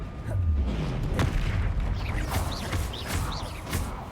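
Confringo spell blast in a Harry Potter-style video game: a deep booming rumble followed by crackling, whistling bursts, fairly loud and unbroken, with no talk.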